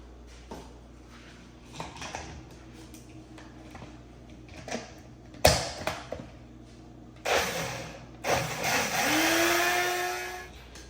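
A mixer grinder blending tomatoes whirs in short pulses, then revs up into a loud sustained blending roar near the end, with clattering handling sounds between bursts.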